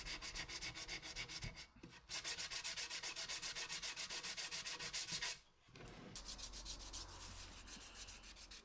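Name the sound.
hand sanding wood corners with 180 grit sandpaper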